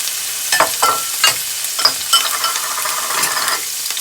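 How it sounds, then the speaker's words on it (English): Garlic and onions sautéing in a pan, a bright, constant sizzle with a few scraping stirs and light clinks of the utensil near the start, close and fairly loud, without voices. "I'm just gonna mix this and let this saute for about 2 to 3 minutes"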